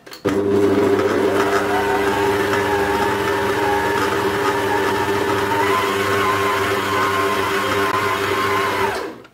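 An electric mixer kneads hot cross bun dough with a steady, close whirring motor drone that runs evenly for several seconds, then cuts off abruptly.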